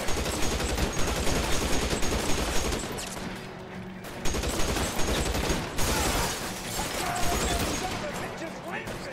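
L.A. Noire gunfight: dense, rapid automatic fire and shot bursts fill nearly the whole stretch with a brief lull midway, while voices shout over the shooting.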